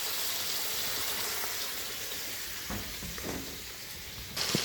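Freshly slaughtered pork sizzles and crackles in a frying pan, a continuous close hiss with occasional stirring clatter and no talk.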